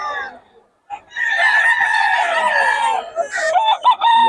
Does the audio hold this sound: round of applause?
no